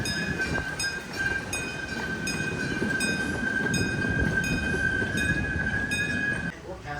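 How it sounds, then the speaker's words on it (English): The Kansas City Zoo railroad train rolls past with a steady rumble and a sustained high whine from the wheels, loud and close throughout before fading at the end. "There's a train."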